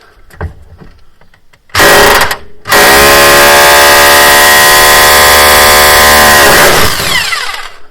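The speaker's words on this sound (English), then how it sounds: "and then we're going to drill these out. Excuse the noise." A loud SDS drill with a masonry bit roars in two bursts, a short one then a sustained grinding run of several seconds before spinning down; quiet clatter precedes it.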